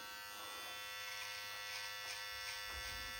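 A steady electric buzz from hair clippers trimming hair runs throughout, close and fairly quiet, with slight changes in tone as it cuts.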